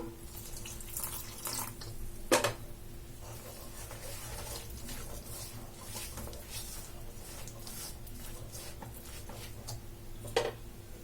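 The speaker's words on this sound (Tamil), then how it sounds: "கொஞ்சம் கொஞ்சமாக தண்ணி சேர்த்து நம்ம போண்டா மாவு மாதிரி ரெடி பண்ணிக்கலாம்" Water trickles and splashes steadily into a bowl of bonda batter, a soft continuous pour with a couple of small clinks.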